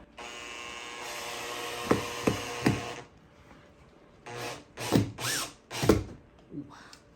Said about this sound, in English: Alright, so this is dangerous AF, but I'm gonna drill this here.